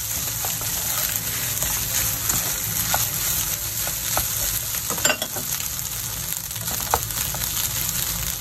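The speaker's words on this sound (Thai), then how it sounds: "นำแครอทกับหัวหอมที่ผัดทิ้งไว้นะคะลงไปผัดด้วยกันเลยค่ะ" Carrots and onions stir-fried together for Japanese egg fried rice give a steady, close sizzle with occasional clinks and scrapes of the utensil against the pan, heard alone without talk.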